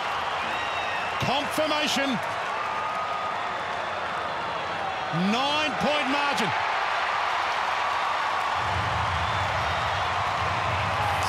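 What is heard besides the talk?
crowd cheering at Marvel Stadium after a St Kilda goal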